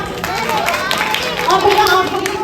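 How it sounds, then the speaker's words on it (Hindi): Audience at a Jain religious game show claps in a loose, continuous round beneath crowd chatter and murmuring voices, close and fairly loud. "चलिए इसके लिए जोरदार तालियां।"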